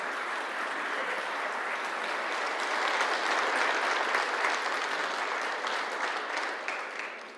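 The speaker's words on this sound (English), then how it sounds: "You can applaud for that." Audience applauding the state champion girls' and boys' cross-country teams of Sacred Heart Academy at a Michigan legislative honoring; steady, dense clapping from a crowd that swells midway and then tapers off, with no one speaking over it.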